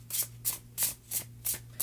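Tarot cards riffled in six evenly spaced bursts, each a crisp close-up flutter of stiff card stock, with a faint steady hum beneath and no talking.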